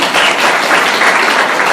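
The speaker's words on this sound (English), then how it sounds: "Please give a round of applause for our panelists." An audience claps for the panelists at a panel discussion, a steady, dense round of applause that holds at an even level throughout.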